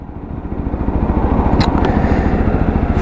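A Lexmoto LXS motorcycle engine pulls away as the clutch is let out, its rough pulsing note rising steadily and staying loud and close, with wind noise over it.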